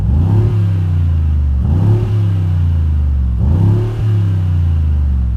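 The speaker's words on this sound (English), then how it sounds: "I love the side exit exhaust. They look really cool and they sound great as well." A Mercedes G-Wagen engine revs hard three times through its side exit exhaust, each loud, raucous burst rising and then dropping back to a rumbling idle, close by with no talking.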